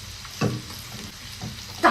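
Oysters frying on a hot iron griddle, with broadband sizzle bursts rising at intervals over a steady low crackle, loud and close, no voices.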